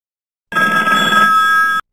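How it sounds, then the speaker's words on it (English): A telephone bell rings in one steady burst of just over a second, bright and close, with silence before and after. "The telephone's ringing."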